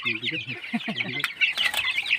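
Hens cluck in low, rapid bursts close by, over a constant background of higher chirping and rustling birds.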